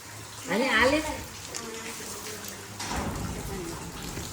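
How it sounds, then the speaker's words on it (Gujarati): Steady rain hisses in the background while a person talks nearby, the patter continuing evenly throughout. "કેટલો વરસાદ આવે છે."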